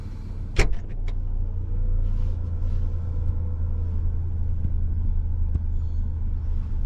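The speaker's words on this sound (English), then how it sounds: "this button here, you can see it looks like a boot button. Now I'm going to press it." A 2020 Ford Puma's powered boot opens at the press of a button: a sharp click, then a steady motor whir over a low engine idle rumble, ending with a faint latch tick.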